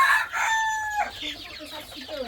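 Native chickens in a crowded farm pen give close, loud clucks and squawks, with a few sharp calls overlapping in quick succession.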